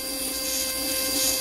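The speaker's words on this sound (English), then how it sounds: "You can hear a little bit of motor noise, that's due to the decoder." A steady high-pitched whine from a miniature model winch's small electric motor, running through a decoder, continuous and even, running alone without talk.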